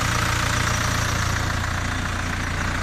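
A used tractor's engine idles steadily and close by, a low, even rumble with a faint knocking pulse that runs unbroken and alone, with no voices.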